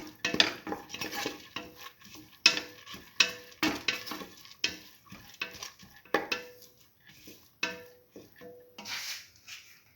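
A spoon stirs and scrapes around a metal pot of split mung bean and tamarind stew with turmeric in quick, uneven strokes, with clinking against metal and a faint sizzle underneath.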